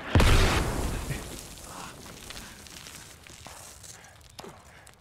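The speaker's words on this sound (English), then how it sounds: "He's dropping mortars on my head!" A heavy mortar blast booms close by in the Squad combat game, opening with a loud low rumble that trails off into debris, shuffling movement and a smaller pop later on.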